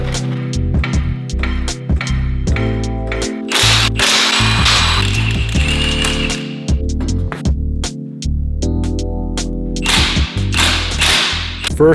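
A power tool, likely an impact wrench, drives lug nuts to seat an OEM wheel on a Subaru STI, giving repeated loud ratcheting bursts with short pauses, close by, with no talk.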